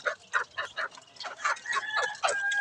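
A five-month-old chicken in a breeding pen clucks in a quick, close series of short calls.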